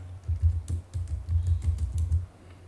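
A router command being typed on a computer keyboard, a close, quick run of soft clicking keystrokes in an uneven rhythm.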